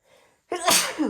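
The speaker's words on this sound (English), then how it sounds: "I have to sneeze." A single loud sneeze with a faint intake of breath just before it, sharp and close.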